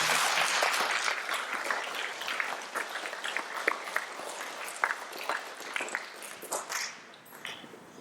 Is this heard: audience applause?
yes